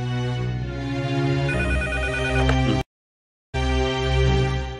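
A telephone rings loudly in an electronic ringtone pattern, cuts off briefly to silence, then resumes ringing, with no talk over it.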